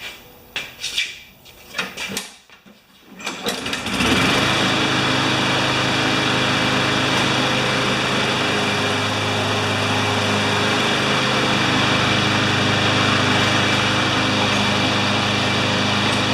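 A Craftsman lawn mower is pulled to start, with a few rough rattling clunks, then catches and runs at a steady, loud, droning engine roar close by for the rest of the time.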